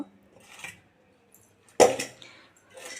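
Raw banana slices being stirred with masala in a bowl, heard as a few soft, close clinks and squishy scrapes of utensil against dish, with one louder clatter midway and quiet gaps between.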